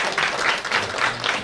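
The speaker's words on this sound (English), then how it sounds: "Shall we have a big round of applause for Professor Singh?" Staff-training audience applauding Professor Singh's arrival, a dense, steady roar of many hands clapping together in a hall, sustained and fairly loud throughout.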